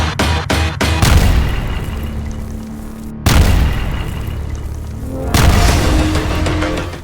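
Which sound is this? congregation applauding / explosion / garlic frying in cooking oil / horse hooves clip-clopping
explosion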